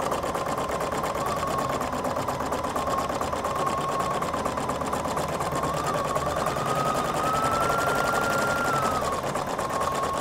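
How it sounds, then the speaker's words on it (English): Husqvarna Viking Designer Brilliance 80 embroidery machine running a placement stitch, a steady, fast, even mechanical whir with a faint rising tone near the end, continuous and close for the whole stretch without talk. "And we're only going to stitch over a little bit of what I did before."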